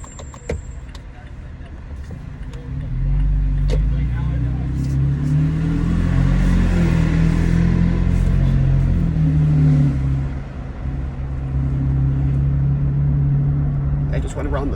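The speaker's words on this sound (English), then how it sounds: "I definitely like this exhaust way better than the stock." A 2019 Toyota Tacoma TRD Pro with an MBRP aftermarket exhaust drives along, its deep exhaust drone rising under acceleration and holding a steady low rumble, with someone talking over it.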